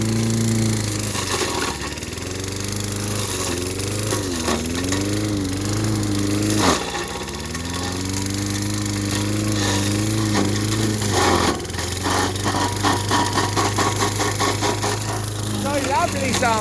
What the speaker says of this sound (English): Shit kicking lawnmower.